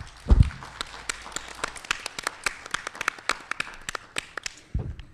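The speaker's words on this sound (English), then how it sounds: "Let's have a round of applause for all our speakers." Scattered applause from a conference audience for the speakers, sparse individual claps spread across the room rather than a dense ovation, with a couple of low thumps near the start and end.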